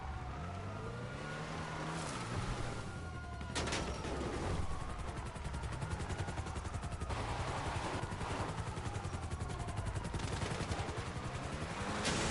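Guided missiles streak and explode in GTA Online with a Scramjet, bursts of blasts and whooshing over a constant engine drone and sweeping tones, loud and busy throughout.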